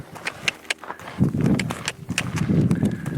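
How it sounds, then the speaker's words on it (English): Hooves of a large, reactive half-draft horse clip-clop during haltering, a few uneven thuds and scuffs close by, with faint background noise and no talk. "he's quite a reactive horse"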